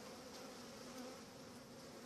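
A dense swarm of honeybees hums continuously at close range during an early spring hive inspection, a steady, even buzzing with no voices.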